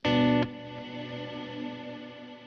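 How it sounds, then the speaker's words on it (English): An electric guitar chord through a Kemper profiler rings out hard, cuts off abruptly, and a long pre-delayed reverb tail swells in afterward, washing on and slowly fading alone. "Now, I can make that reverb come in way later."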